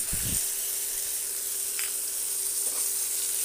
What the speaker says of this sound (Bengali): এবার ভালোভাবে একটু ভেজে নেব